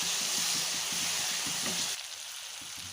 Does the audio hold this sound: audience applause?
no